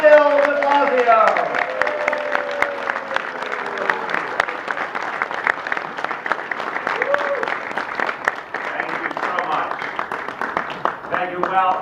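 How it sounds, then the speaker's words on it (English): An audience at a Jewish Heritage Month barbecue at Gracie Mansion applauds as Mayor Bill de Blasio comes to the microphone, the clapping sustained and somewhat scattered, with voices and crowd chatter mixed in over it. "we're going to give him a tremendous round of applause"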